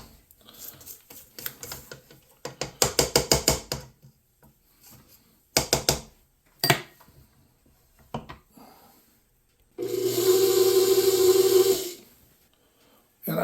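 An electric mixer mixing cheesecake batter in a bowl, heard as a steady loud whir for about two seconds near the end, after scattered clicks, scraping and handling noises.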